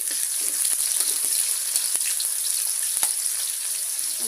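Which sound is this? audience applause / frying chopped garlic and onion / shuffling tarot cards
frying chopped garlic and onion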